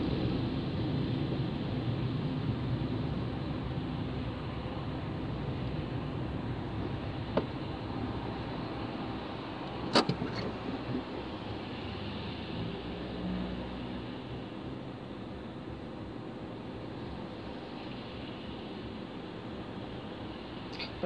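Inside a car crawling through a traffic jam, a low, steady cabin rumble and road hiss lasting about twenty seconds, with a couple of faint clicks and no talking.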